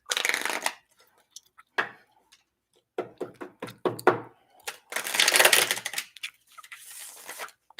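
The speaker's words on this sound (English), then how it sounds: "I was shuffling them cards." Tarot cards are shuffled by hand in bursts of riffling and crisp snapping, close and clear, with short pauses between rounds and no talk over them.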